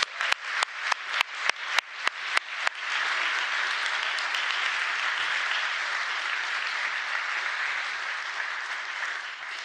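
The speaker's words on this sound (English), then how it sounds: "A great round of applause just for this part." A conference audience applauds at the close of a day, opening with about ten loud, evenly spaced claps before swelling into sustained, dense clapping that stays steady and fairly close for several seconds.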